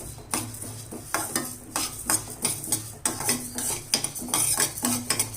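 Moong dal dry-roasts in a pan while a spoon stirs it, making a rhythmic series of rattling scrapes and metallic clinks over a faint low hum, close and fairly quiet, with no voices.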